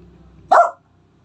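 A single sharp dog bark, close and fairly loud, rising suddenly out of quiet low background rumble and cutting off after about a quarter second.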